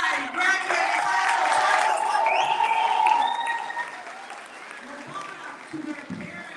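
Applause from the audience at a 2023 junior high graduation ceremony, a loud, steady clatter of many hands with a few whoops that fades partway through, while a voice speaks over it.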